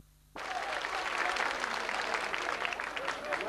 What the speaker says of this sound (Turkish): Yılmaz Yavuz için olsun alkışlar lütfen